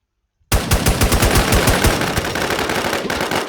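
Rapid automatic gunfire from the online shooter Warz Legend, a dense, loud burst of shots that begins abruptly after a short silence and continues steadily to the end.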